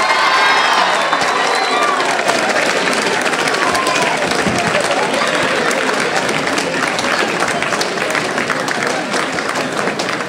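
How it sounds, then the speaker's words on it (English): Students at a National Blue Ribbon School celebration at Highland School of Technology clap and cheer loudly, with shouts and whoops over a sustained roar of applause from a large crowd. "Give them a round of applause"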